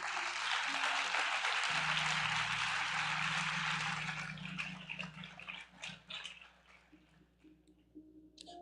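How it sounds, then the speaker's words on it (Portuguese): A church congregation applauds during a worship service with dense clapping that gradually thins out into scattered claps and fades away. "Aplauda o nome do Senhor, por gentileza."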